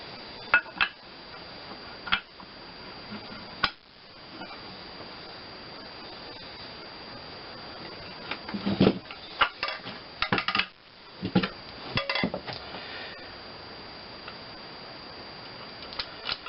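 Metal parts tick and clink sparsely as an oil pump is refitted on a Briggs and Stratton twin cylinder engine during a rebuild, with scattered small clanks and a few louder clusters over a quiet, hissy background.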